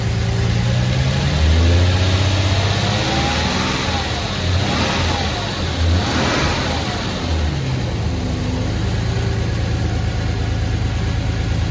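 A Jaguar XJS with a V12 engine that has a misfire, revved steadily and loudly, its uneven rising and falling engine note running continuously with no voices.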